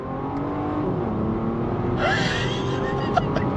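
Bentley Bentayga Speed SUV accelerating at full throttle, heard from inside the cabin as a steady loud engine roar that rises in pitch partway through, with a brief gasp-like sound near the end.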